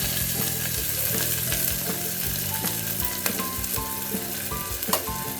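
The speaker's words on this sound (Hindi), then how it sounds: "पहले हम ऑनियन को थोड़ा सा लाल करके ले लेते हैं, ब्राउन कलर का भून के ले लेते हैं।" Chopped onions fry in a pan for Indian achari baingan, giving a steady, busy sizzle and crackle with occasional stirring knocks, close and continuous with no talk.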